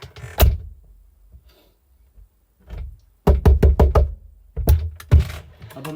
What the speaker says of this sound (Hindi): और अब मैं करता हूँ दरवाज़ा बंद।